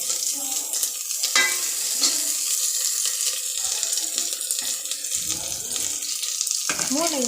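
Vegetables with radish are stirred in a pan, a steady sizzling, watery hiss with scraping of the spoon against the pan, close and continuous, with a few faint voice-like sounds underneath.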